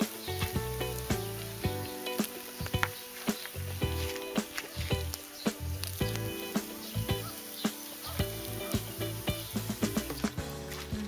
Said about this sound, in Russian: перец прожаривается очень медленно